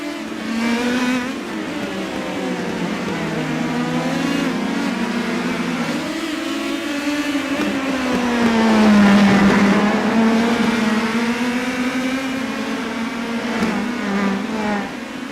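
Race car engines from the iRacing Indy Pro 2000 series at Oran Park drone continuously and loudly, with rising and falling pitch sweeps as several cars rev and pass, peaking near the middle before settling into a steady high whine.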